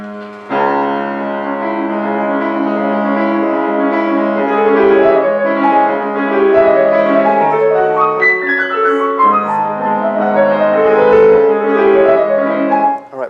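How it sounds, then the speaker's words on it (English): Chopin's Fantaisie-Impromptu, Opus 66, played on solo piano with a rapid, flowing run of notes over a steady left-hand accompaniment, sustained and clear throughout with no speech. "squirreled away in one of Chopin's most famous piano works, the Opus 56 Fantasy Impromptu"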